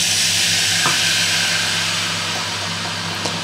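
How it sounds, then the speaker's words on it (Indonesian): Thai coconut cream poured into a preheated pan sizzles in a strong, continuous hiss with a faint low hum beneath and a couple of small clicks, heard close and alone without speech. "Ini dia bunyi sreng karena pancinya udah panas duluan ya"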